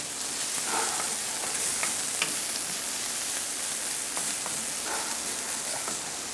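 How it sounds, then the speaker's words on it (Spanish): Sauce base sizzling and frying in a pot over high heat, a steady bright crackle with occasional louder pops and stirring scrapes, close and continuous. "cuando ya se nos sofríe bien esto, voy a bajar un poquito el fuego"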